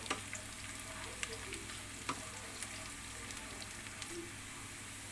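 Chili and garlic fry in a generous amount of oil for a homemade chili garlic sauce, giving a steady, faint sizzle with a few soft clicks of stirring and no talking.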